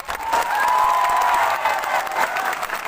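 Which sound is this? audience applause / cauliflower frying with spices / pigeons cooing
audience applause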